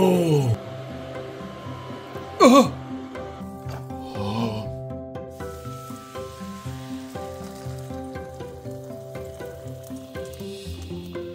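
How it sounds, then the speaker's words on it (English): A pot of water bubbles steadily on a stove with a wooden spoon laid across the top. A sharp clatter comes early, then a continuous low bubbling and hiss. "put a wooden spoon across a boiling pot of water to keep it from boiling over"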